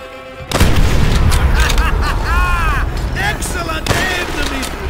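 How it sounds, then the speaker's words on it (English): A flamethrower fuel tank explodes in a Call of Duty: World at War battle, one loud sudden boom followed by sustained rumbling roar, gunfire and shouting voices over it. "Exploding the fuel tank will incinerate anyone standing nearby."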